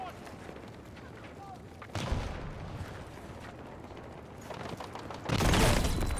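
Heavy booming blasts from a tank firing in Battlefield 6, with a loud impact near two seconds and a bigger, closer burst near the end, over steady battlefield rumble.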